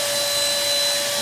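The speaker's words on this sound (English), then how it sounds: "there you have a Black & Decker 2-in-1 cordless hoover" A Black & Decker 2-in-1 cordless vacuum cleaner runs close by with a loud, steady whine and an even rushing airflow that does not change.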